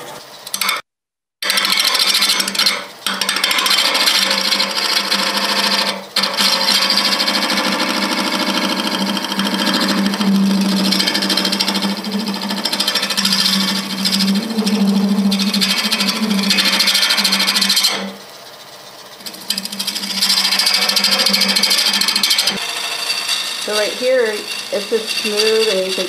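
A wood lathe turning a resin and wood goblet at about 800 RPM spins with a continuous, loud whirring hiss and faint rattling, steady throughout apart from a couple of brief pauses.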